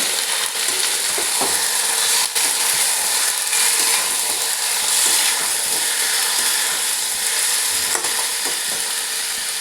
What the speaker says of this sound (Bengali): মাংসটাও ভালো করে একবার নাড়িয়ে নিচ্ছি।